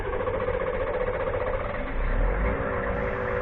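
A Humvee engine runs steadily at close range with a heavy low rumble, swelling louder partway through as it revs up during winch work.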